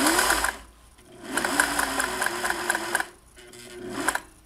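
A vintage Singer 401A sewing machine runs a straight stitch in two bursts of steady, rapid mechanical whirring and ticking, separated by a short pause and close to the microphone.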